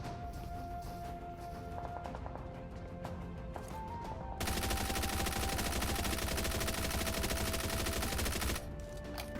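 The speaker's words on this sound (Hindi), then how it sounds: "बट भाई इतनी सारी गोलियां तो मारी, इतने में तो मर जाना चाहिए यार।" Rapid automatic gunfire from a first-person battle royale video game, bursts of shots early on, then a long loud sustained volley before it cuts off, with a tonal game sound running underneath.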